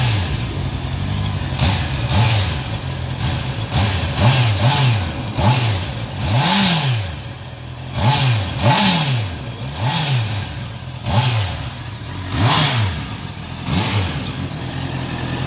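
A Honda CBR650R motorcycle in Las Palmas revs repeatedly, its engine climbing and falling in about a dozen sharp, loud bursts close by over a steady idle, with no talking.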